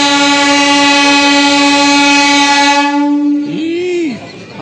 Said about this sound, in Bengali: কত জোরে মেরেছে রে ট্রেনটা। এই ট্রেনটা চলে আসছে